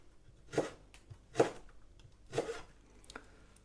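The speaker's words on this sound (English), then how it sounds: "And then I'm going to cut them into fine little chunks." A knife cutting homemade citrus peel into fine chunks on a board: four soft, spaced strokes, quiet and close, with a faint gap between each cut.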